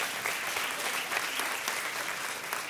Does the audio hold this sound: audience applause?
yes